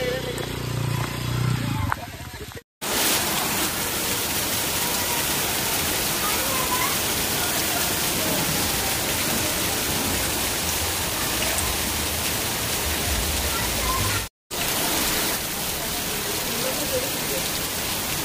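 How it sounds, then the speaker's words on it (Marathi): Heavy rain pouring steadily in the Konkan, a dense unbroken hiss that stays loud throughout, interrupted only by two brief gaps. "शेवटी आम्हाला पाऊस भेटला."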